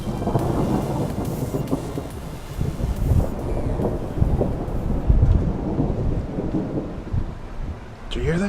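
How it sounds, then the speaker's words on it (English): Thunder rumbling through a thunderstorm, deep rolling booms over steady rain and gusting wind buffeting the microphone, loud and close, with no talking. "That is thunder."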